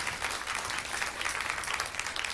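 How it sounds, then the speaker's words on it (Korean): A church congregation claps during a Sunday worship service, a dense burst of applause from a crowd that holds steady for a couple of seconds with no speech over it. "우리 하나님께 감사의 박수 올려드리도록 하겠습니다."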